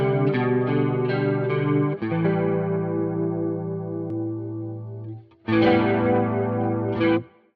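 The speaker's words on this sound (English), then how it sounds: "That's what the chorus sounds like." A guitar runs through the chorus effect in vibe mode on a Quad Cortex processor, strummed chords shimmering with a warbling modulation in a few sustained phrases, separated by short pauses.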